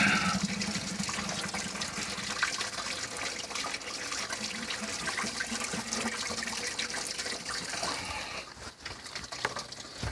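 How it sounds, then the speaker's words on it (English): A steady, splashing gush of antifreeze pours continuously from a Chevy Silverado 5.7 (350) radiator hose into a bucket, a broad wet hiss with no voices, easing slightly near the end. "A lot of antifreeze coming out."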